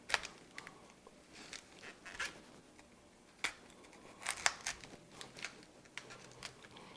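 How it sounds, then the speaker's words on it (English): A knife cutting the core out of a whole cabbage, heard as a series of crisp, irregular snipping and crunching cuts, close and fairly quiet, with no talking. "Trying to cut the core out."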